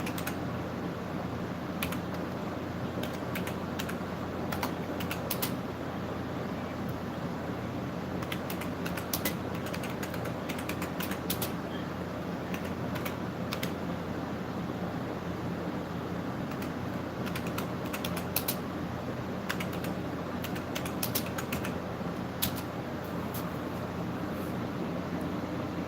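Fingers typing on a computer keyboard, a long stretch of irregular clicky keystrokes in bursts and runs, close and fairly quiet over faint room hum.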